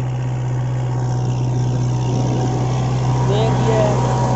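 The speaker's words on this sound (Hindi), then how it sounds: "पूरी मिट्टी लेके जा रहा है ट्रैक्टर, स्पीड भी ज़्यादा है ट्रैक्टर की, इतना गहरा चला रहे हैं।" A Kubota MU4501 45 hp tractor pulling a reversible plow deep through dry field soil at speed, a steady loud low engine drone with a constant hum throughout, while someone talks over it.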